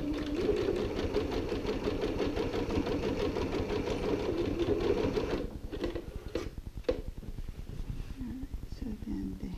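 A sewing machine runs steadily, stitching down the hem of a fabric ironing board cover, then breaks into shorter bursts with clicks as the fabric is handled; close and loud, with a voice talking over it.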